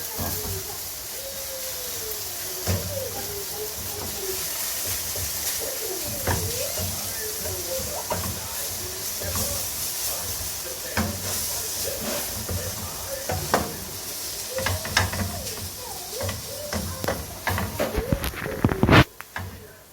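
Cold rice mixed with cup noodles frying in a pan over low heat, with a steady soft sizzle and hiss, intermittent scraping and stirring clatter, and a speaking voice over the cooking.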